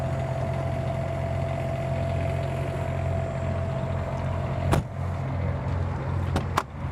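An 8,000 watt Onan quiet diesel generator runs on a 2026 Newmar Grand Star 3444 Super C motor home, a steady low mechanical hum with a faint tonal whine, close and continuous, broken by a few brief clicks near the end.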